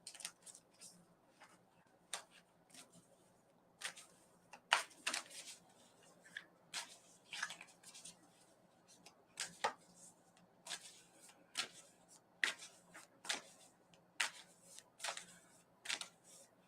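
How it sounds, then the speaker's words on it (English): Playing cards riffled and shuffled in quick bursts, a series of crisp ruffling snaps spaced a second or so apart, close and fairly quiet, with no talking. "Just doing a quick shuffle here."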